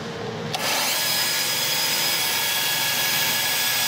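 A bandsaw cuts through a piece of wood, the tool spinning up quickly and then holding a steady, bright, continuous whine with no talk over it.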